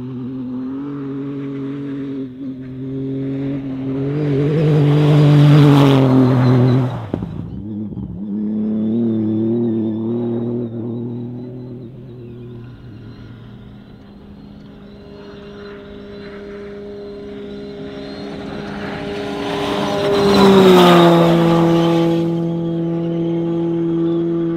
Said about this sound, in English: Cars have started coming through.